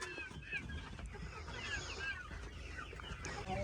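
Several hens cluck and chatter intermittently nearby on a farm, over a low, steady background murmur.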